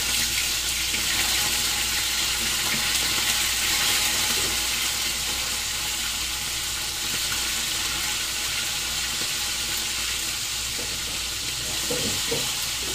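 Fried galunggong fish being added to vegetables cooking in a pan, giving a continuous close sizzle with stirring scrapes and a few soft knocks near the end, with no talking.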